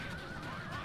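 A horse in the video game Rome Total War Remastered gives a short, wavering neigh with a shrill, trembling pitch, heard up close amid a dense, noisy battle backdrop.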